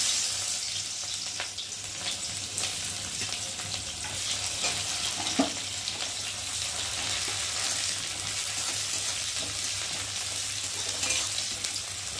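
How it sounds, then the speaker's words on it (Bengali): Onions fry in oil in a wok, a steady, close crackling sizzle running for several seconds, with a few faint stirring taps and no voices. "এবার আমি পেঁয়াজগুলোকে দিয়ে ভালো করে ভেজে নেব।"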